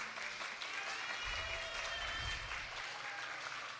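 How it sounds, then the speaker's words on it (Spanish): Steady applause from an audience at a live cultural afternoon event, dense clapping that holds evenly throughout with faint voices underneath. "¡Fuertes palmas!"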